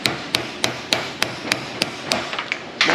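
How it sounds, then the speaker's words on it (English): Sharp metallic hammer blows on a chisel ring out in a steady rhythm while removing a U-joint on a Ford F250 or F350 truck, about nine strikes spaced roughly a third of a second apart, close and loud with no talking. "Hammer and chisel."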